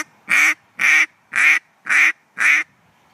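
Five even, evenly spaced bright quacks from a duck call blown with no cupping hand over its end, each note flat and open-sounding, close and fairly loud with silence between.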